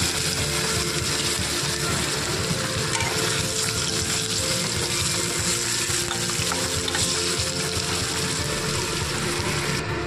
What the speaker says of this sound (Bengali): এবার আমি তেলের মধ্যে আলু ভাজবো